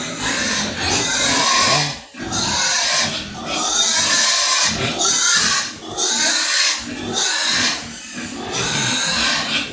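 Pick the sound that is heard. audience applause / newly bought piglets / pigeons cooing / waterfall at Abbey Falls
newly bought piglets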